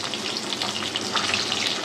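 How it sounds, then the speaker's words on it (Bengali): Parse fish, a 500 g batch, frying in hot oil for Bengali macher jhaal fish curry, giving a loud, steady, close sizzle with crackling spatter throughout and no talking. "আমি তেলে দিয়ে দিয়েছি, একটু ভাজা হোক, আমি মাছগুলো উল্টে দেবো"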